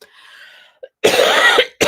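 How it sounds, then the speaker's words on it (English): A single harsh, raspy cough close up from a person with a cold, preceded by a brief breathy throat noise, then another cough starting. "I'm still fighting this cough and cold"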